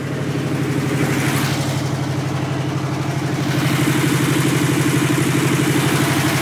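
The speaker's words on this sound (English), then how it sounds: "And then here's the engine." A yellow V8 fitted in a 1968 Toyota Land Cruiser FJ40 idles with a steady, even low rumble and light mechanical clatter, close and continuous with no talk.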